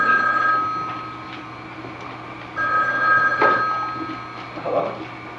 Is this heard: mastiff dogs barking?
no